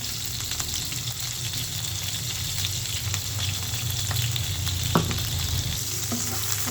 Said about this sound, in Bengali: পেঁয়াজ আজকে একসাথে বাগার দিয়ে ফেলবো কারণ আজকে টাইম নেই আমার